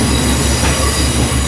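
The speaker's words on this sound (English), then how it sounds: "we're now coming into Battersby, where the train reverses" A train arriving at Battersby station, where it reverses, heard from on board: loud wheel squeal and rail noise, steady and close, with faint rhythmic wheel clicks.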